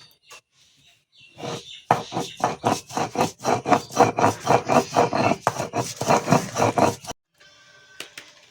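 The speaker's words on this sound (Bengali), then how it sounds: "আমি দিয়ে দিচ্ছি পোস্তটাও বেটে নেবো" Poppy seeds being ground into a paste on a stone, heard as a fast run of regular scraping strokes, close and steady, about a dozen rhythmic rubs before stopping, with faint rustling before and after.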